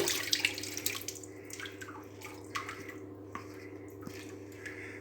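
Hot water runs steadily from a tap while a small painted 0 gauge J15 locomotive part is scrubbed with a toothbrush, giving soft irregular splashing and drips.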